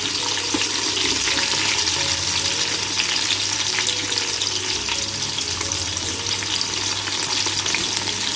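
Cinnamon, cloves and green chillies hit hot oil in a pan, crackling in a dense, continuous fry with faint stirring scrapes, loud and close with no talking.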